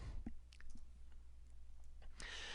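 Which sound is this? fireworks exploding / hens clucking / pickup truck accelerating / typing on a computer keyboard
typing on a computer keyboard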